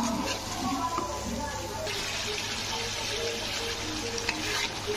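A spice paste of turmeric powder with a splash of water fries and is stirred in hot oil for a katla fish kalia. A dense, steady sizzle with scraping stir sounds runs throughout, and a voice speaks faintly underneath.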